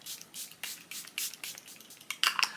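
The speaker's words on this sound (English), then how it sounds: "This is the Charlotte Tilbury Airbrush Flawless Setting Spray." Charlotte Tilbury Airbrush Flawless Setting Spray misting in several short, soft hissing pumps, close and quiet, with no talking.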